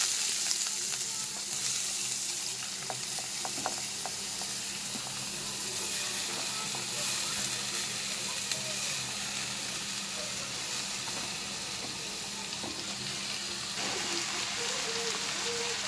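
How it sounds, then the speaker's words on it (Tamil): Carrots and beans sauté in hot oil in a pan, giving a steady close sizzle and crackle that runs throughout with occasional stirring scrapes and no voices. "கேரட் பீன்ஸ் வந்து போட்டாச்சு ஸோ நல்லா வந்து எண்ணெயில் வந்து கொஞ்சம் வதக்கிடலாம்"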